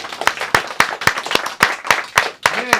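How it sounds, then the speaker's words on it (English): Hands clapping at the close of a hip-hop talk show, about ten sharp, evenly spaced claps in a steady rhythm, close and loud, with a brief voice near the end. "Clap it up"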